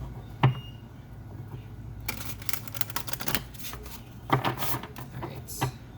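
A deck of tarot cards is shuffled in soft, quick riffles and bursts of papery flicking, with brief taps between, close and fairly quiet.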